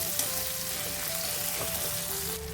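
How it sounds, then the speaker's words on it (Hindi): Chopped tomatoes sizzle steadily in a pan with ginger and garlic, a continuous close frying hiss with no talking. "टोमेटो हमने ऐड कर दिए हैं और इसे सॉफ्ट होने तक भूनना है अच्छी तरह"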